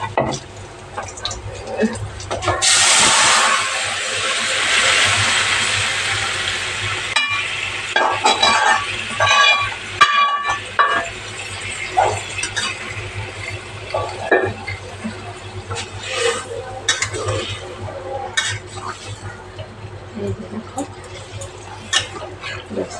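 Bottle gourd greens tipped into a hot pan of lightly browned garlic give a loud burst of sizzling that settles into steady frying with stirring clatter, under occasional speech.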